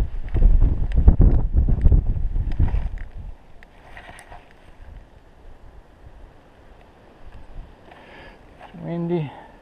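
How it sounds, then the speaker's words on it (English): Strong wind buffets the microphone high above Indian Creek Gorge in the Ponca Wilderness along the Buffalo National River, with loud rumbling gusts for the first few seconds, then a softer steady rush and a faint voice near the end. "The wind is so rough it's about to blow me over the edge."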